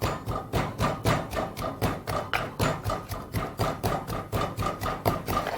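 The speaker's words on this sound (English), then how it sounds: "So begin by pounding down your garlic." Garlic and salt pounded with a pestle in a mortar: a steady series of about twenty close, even thuds in a regular rhythm, heard alone.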